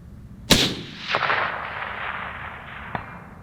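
A single sharp, loud report from a factory precision rifle at a long-range shooting session, followed by a decaying echo and a faint distant impact clang a couple of seconds later; no talking.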